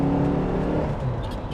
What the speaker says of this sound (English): the 928 V8 motor is just a glorious, glorious V8